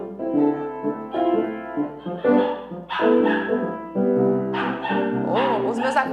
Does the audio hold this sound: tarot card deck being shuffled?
no